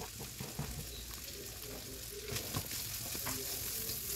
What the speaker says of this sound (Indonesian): Ini saya tumis-tumis pakai margarin sampai harum. Kemudian saya masukkan smoked beef-nya.